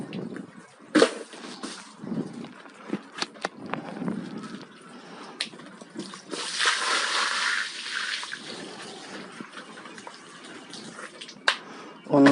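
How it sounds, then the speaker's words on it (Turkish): Sea sand being rinsed by hand in water for pet birds: soft sloshing, trickling and scattered splashes with small knocks, fairly quiet and close, with a brief steadier pour in the middle. "Şimdi deniz kumunu birkaç sudan geçirelim."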